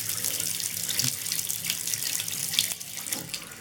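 Dirty water gushes and splashes from a household tap after a water mains failure, a close, steady rushing stream with irregular sputters.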